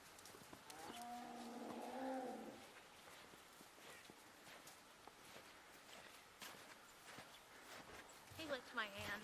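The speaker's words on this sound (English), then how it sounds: "This is our neighbor's cows." Neighbouring farm cattle low in a couple of long, loud moos near the start, with footsteps, rustling and a voice in the background afterward.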